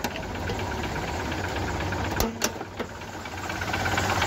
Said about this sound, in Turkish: Qani motori qanaqa ekan buni? Motori dizelga gaz qo'yilgan.